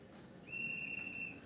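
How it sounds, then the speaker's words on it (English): A guard's whistle sound effect plays from a Bachmann Thomas model train with DCC sound, a single thin, steady high whistle lasting under a second, quiet and close. "Guard's whistle."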